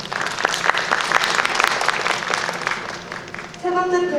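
An audience at an academic research presentation applauds with steady, dense clapping, close and loud, while a voice speaks over it near the end.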